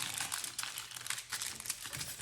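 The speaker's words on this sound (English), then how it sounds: "fold the foil over to make it nice and neat" Aluminum foil crinkles and crumples steadily as it is folded over a yarn relief base, a close, continuous papery rustle with brief louder crackles, no voices.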